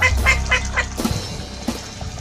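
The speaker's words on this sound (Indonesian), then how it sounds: "Bebek mainan." A toy duck quacks loudly and close, about four rapid nasal quacks in a row followed by a couple of scattered squeaks, with no talking.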